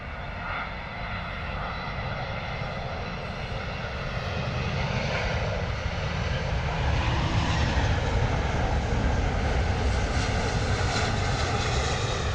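A large airliner lands at London Heathrow Airport, its engines giving a steady, loud roar that swells gradually as it passes close by, with no talking over it.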